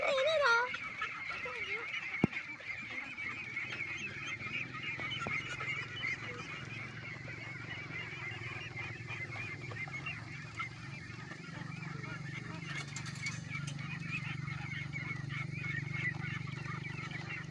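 Ducks by a river honk and quack in a continuous, clamorous chorus, nearby and fairly loud, with a sharp click partway through.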